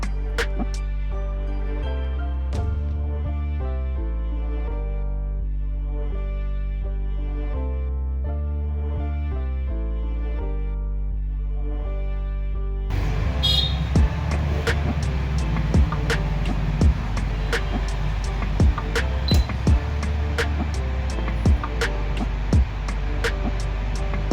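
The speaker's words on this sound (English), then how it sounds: "I will connect this motor for testing purpose." A small electric motor powered from a 0 to 30 V, 10 A adjustable voltage regulator built around a 2N3055 transistor, first a steady tonal hum, then a brighter buzzing whir with rapid ticking after it changes pitch midway.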